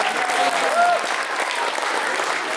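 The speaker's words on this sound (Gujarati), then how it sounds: "તો એમના માટે જોરદાર તાળીઓ થઈ જાય." Audience at a Gujarati community Diwali cultural event in a Garching hall applauds steadily, a dense, even clapping that fills the whole moment close and loud, with no talk over it.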